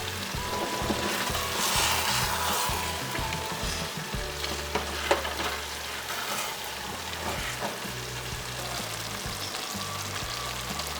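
Ekwang, a Cameroonian dish, being stirred in a pot with a wooden spoon, with a continuous hiss of frying underneath and soft scraping and knocking as the spoon circles.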